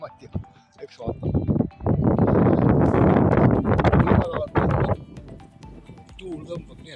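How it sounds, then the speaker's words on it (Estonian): Strong gusts of wind buffet the microphone outdoors on an autumn hillside, a loud rumbling roar that swells for several seconds and then eases, with a person speaking intermittently. "Tuul tõmbab nii, et jube."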